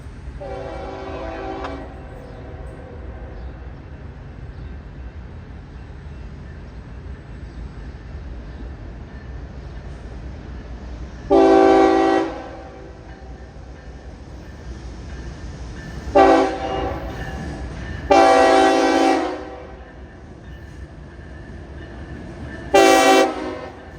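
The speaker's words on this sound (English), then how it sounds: "Northbound Autorack train" Northbound autorack freight train M277 rolls through Pittsburgh's South Side with a steady rumble of cars, punctuated by four short, loud horn blasts spaced several seconds apart.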